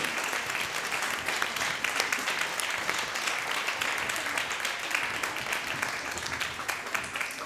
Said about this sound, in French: Ils sont là, on les applaudit bien fort.